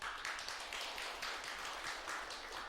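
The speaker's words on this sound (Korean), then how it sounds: "그 박수까지 칠 일은 없지" Sustained applause from an audience at a Buddhist temple dharma service, a dense, steady patter of many hands clapping close by that fills the whole moment with no voices over it.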